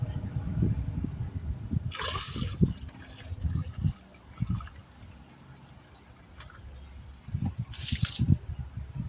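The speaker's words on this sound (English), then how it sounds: "let me drain this bucket one more time" Liquid drains and splashes from a bucket during thermostat work on a 2012 Jeep Commander, with gurgling pours, drips and two brief hissing gushes, close and moderately loud.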